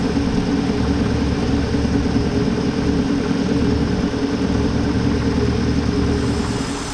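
An old Ford bump side truck engine, long buried and forgotten, runs at a steady idle, a loud, even mechanical rumble with constant low drone and no voices over it.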